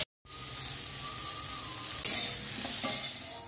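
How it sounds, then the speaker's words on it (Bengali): A papaya and potato curry cooks in a pan, giving a steady close sizzle and frying crackle with a few soft scrapes of stirring, alone with no voices. "বসিয়েছি পেঁপে আলুর তরকারি"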